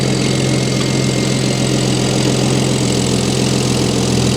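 A BMW E60's engine idles steadily and smoothly, a loud, even mechanical hum with a faint rhythmic pulse running unbroken throughout.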